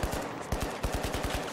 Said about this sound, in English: Yeah, no, gun sounds are nice.